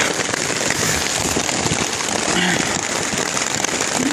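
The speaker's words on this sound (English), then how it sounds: "We're in the middle of a thunderstorm." Heavy rain from a thunderstorm pours down steadily around a campsite, giving a dense, continuous hiss with crackling drops close by.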